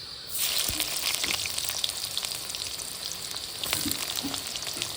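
Sliced onion drops into hot oil tempered with nigella seeds and fries with a loud, dense, continuous sizzle that starts abruptly and holds steady, with scattered crackles and light stirring.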